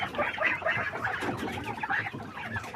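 A heavy-line quail hen being handled for weighing, making close, busy clucking and chattering calls that continue without a break over a short stretch.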